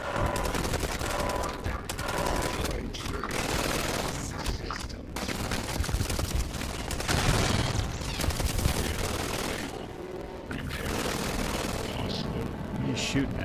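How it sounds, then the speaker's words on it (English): Sustained bursts of gunfire from Starfield, dense and loud, with booming impacts, all heard under ongoing talk. "What are you shooting at?"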